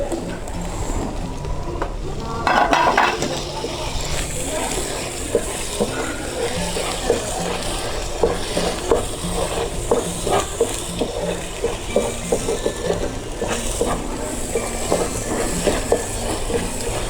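Spices tipped together into ghee with fried ginger, garlic and onion for a korma tadka, giving a steady, close sizzle with scattered crackles and the scrape of stirring throughout.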